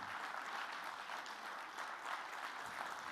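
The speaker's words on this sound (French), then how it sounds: "Applaudissez votre invité ce matin, Monsieur Bernard Cazeneuve." Conference audience applauding a guest speaker after a morning talk, even continuous clapping heard from a distance at low level throughout.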